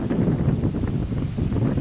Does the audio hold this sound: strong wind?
yes